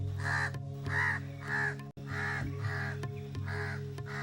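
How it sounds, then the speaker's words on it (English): Harsh, repeated caws from a crow, about seven calls in a steady rhythm, close and loud over a low steady hum. "A noisy chatter reveals the presence of an even more menacing bird, the Indian house crow."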